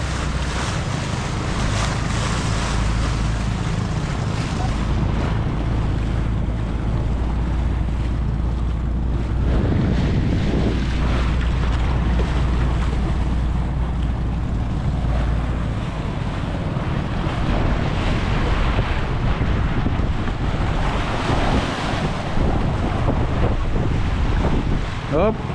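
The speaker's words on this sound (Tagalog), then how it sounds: "Ang ganda na ng makina eh." A fishing boat's engine runs at sea during a tuna trip, its low steady drone carrying on throughout beneath heavy wind buffeting and wave wash, with occasional faint voices.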